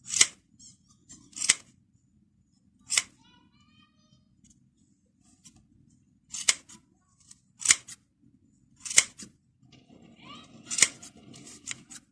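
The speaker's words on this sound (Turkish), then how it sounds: "Şimdi bunu şu kısımlarından keseceğim." Scissors snip through wrapped yarn to release a pompom, with about eight sharp, close cuts spaced at irregular intervals over a faint low background hum and no talking.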